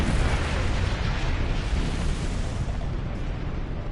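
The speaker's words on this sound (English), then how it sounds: "Ah, that was a good looking explosion, mate." A big explosion in the Star Trek Online video game: a loud, sustained rumbling blast with heavy low-end roar that fills the whole stretch and tapers slightly at the end, with no talking.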